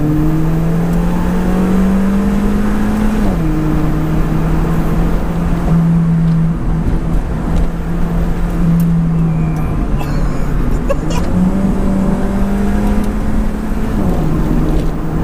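An Alfa Romeo 4C with a 240 bhp 1.7-litre engine accelerates hard with traction control and ABS switched off, its engine droning loud and steady with pitch steps at each gear change, heard from inside the car.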